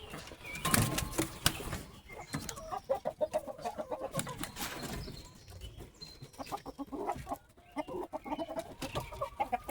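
A flock of chickens, including roosters, clucking busily and continuously, close by, with overlapping squawks and murmurs from several birds.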